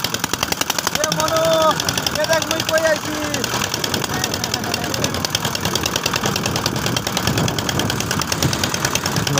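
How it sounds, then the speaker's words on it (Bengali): A boat's engine chugs with a rapid, steady knocking pulse while cruising on a river, joined by water noise and a voice talking briefly near the start. "নৌকার শব্দ, পানির শব্দ।"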